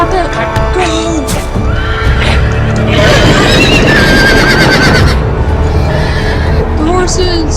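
Horses in a Game of Thrones video game whinnying loudly several times over hooves and movement, a dense, near burst of neighing in the middle, with voices talking throughout.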